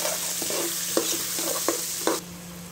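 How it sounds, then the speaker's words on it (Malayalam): Sliced onions are stirred into a hot pan of frying masala for a Thalassery fish-head curry, a steady close sizzle broken by several sharp scrapes of the spoon. "ഇത് നല്ലപോലെ ഒന്ന് മിക്സ് ചെയ്ത് കൊടുക്കാം."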